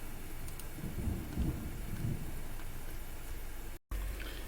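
Steady rain falls over a dark, rumbling low thunder roll in the Civil War strategy game Grand Tactician, a dreary late-November storm, with the wash continuing throughout and cutting out briefly near the end.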